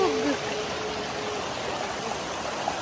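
A mountain-fed river rushes near the beach in Puerto Princesa, Palawan. Its steady broadband flow is close and continuous, with a brief voice at the start.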